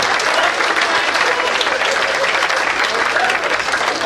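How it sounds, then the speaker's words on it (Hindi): A crowd at a Hindi poetry recital breaks into sustained, dense applause, loud and close, with a faint voice underneath. "बजाओ एक बार फिर से तालियां।"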